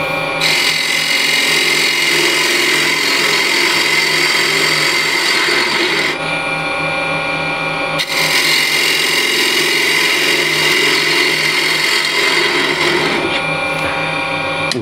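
Woodturning lathe cutting a dished wooden piece, a loud continuous whirring hum with a scraping tool cut, briefly easing off twice before resuming, close and steady throughout.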